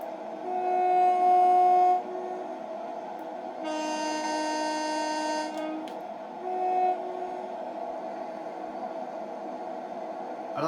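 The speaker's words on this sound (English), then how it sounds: "Let's do the toot the horn." The horn of a class 377 train in Train Sim World 2 sounds in several sustained tones, a loud blast at the start followed by a second longer blast and a shorter one, over steady rail rumble.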